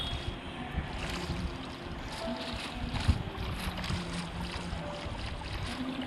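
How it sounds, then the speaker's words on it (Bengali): In Minecraft, a boat glides across water, making a steady, soft rushing wash of paddling and water noise with small splashy swells, and no voices. "চলো বোটে করে যাই, একটু ঘুরে আসি।"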